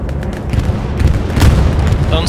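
Bombs strike a capture point in the World War II shooter game Hell Let Loose, producing deep rumbling booms and sharp blasts in a dense, loud barrage of battle noise, with a voice heard briefly.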